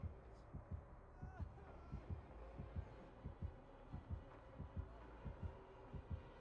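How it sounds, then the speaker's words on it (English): A low double-thump heartbeat in Dead by Daylight pulses steadily, close and insistent, with a faint murmur of voices and game ambience beneath the rhythmic beats. "I hear my heartbeat."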